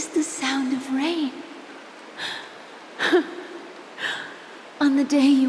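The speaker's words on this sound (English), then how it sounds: "This is the sound of rain." Rain falls steadily in Honkai Star Rail, a soft constant patter running beneath a woman's emotional dialogue that fills most of the scene.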